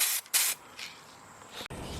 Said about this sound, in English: Alright, now to spray wheel number 2.